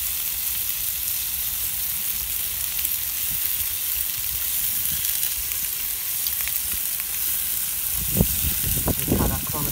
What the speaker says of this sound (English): we've got all these on the Cadac and they're sizzling away